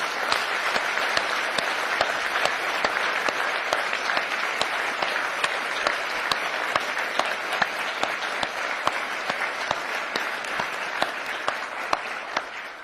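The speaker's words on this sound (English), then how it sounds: "let us give her a heartfelt round of applause." Steady, sustained applause from an audience at an international women's courage awards ceremony at the White House, honoring an absent recipient; dense, even clapping filling the room throughout with no talk over it.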